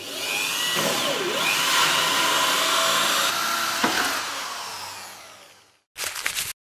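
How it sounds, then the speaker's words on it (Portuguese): A power drill whirs steadily as a bit bores through a washbasin for a faucet installation, a loud sustained whine with small pitch shifts that winds down, followed by a short final burst. "Perfure a direito com uma broca de madeira ou uma broca craniana de pequeno diâmetro."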